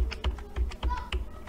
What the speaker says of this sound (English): So let's check with the arrows on the keyboard.